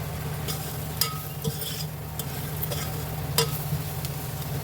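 Spices stirred and frying in a pan of oil for a tamarind-style bajji curry, a steady soft sizzle with occasional sharp scrapes and clinks of a spoon against the pan, close and continuous, no voices.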